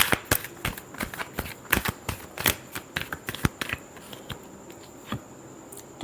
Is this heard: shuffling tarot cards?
yes